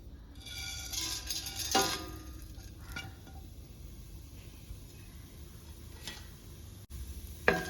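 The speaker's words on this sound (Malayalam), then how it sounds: "മാറ്റി വെച്ചിരിക്കുന്ന സ്പൈസസ് ഓരോന്നായി ചേർത്ത് കൊടുക്കുക." Whole spices dropped one by one into hot ghee, giving a quiet, steady sizzle with a few sharp clicks and taps of the utensil against the pan, close by and with no talking.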